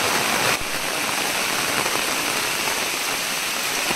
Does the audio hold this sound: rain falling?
yes